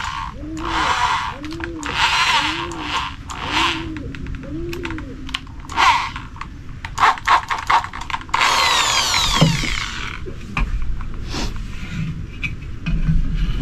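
A power drill bores through wood to make an air gun fishing dart, its whine rising loud and continuous for a few seconds midway, amid clicks, handling noise and intermittent talk.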